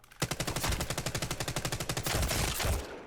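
Rapid semi-automatic gunfire from a weapon in Apex Legends, a fast string of about twenty sharp shots fired in quick, slightly uneven succession, loud and close, then blending into a denser burst near the end. No voices.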